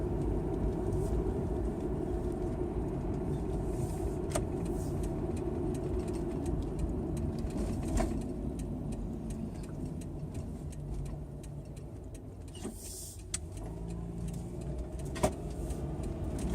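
A car drives through the main streets of Brockville, heard from inside as a steady low engine and road rumble with faint ticking and a few small clicks; no one speaks.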